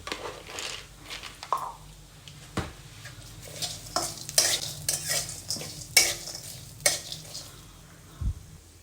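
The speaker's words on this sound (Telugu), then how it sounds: "అవి కూడా మంచిగా క్రిస్పీగా అయ్యేట్టు వేయించుకోవాలి" Roasted gram (putnalu) fried in a bowl-sized pan until crispy: a faint sizzle under repeated close scraping and clattering stirs of a metal spoon, irregular and fairly sharp, with no talking.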